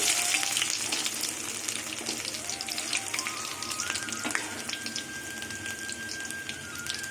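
Chopped garlic dropped into hot oil tempered with whole cumin, dried chilli and bay leaf: steady crackling sizzle, bright and close, with scattered pops and a faint tonal whine in the background.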